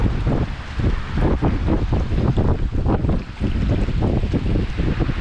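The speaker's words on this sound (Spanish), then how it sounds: "El aire, como está muy fuerte." Strong wind buffets the microphone over a flooded backyard, a loud continuous rumbling roar with gusting surges and no voices.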